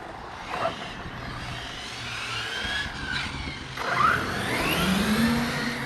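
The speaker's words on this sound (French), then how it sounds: "J'aime bien le bruit de la machine à Thibaut, on dirait un petit quad qui part" A Serpent Spyder SC 2WD radio-controlled short-course car on a 2S battery runs on-road, its electric motor whining up in pitch and surging as it accelerates, heard from moderate distance amid outdoor background noise.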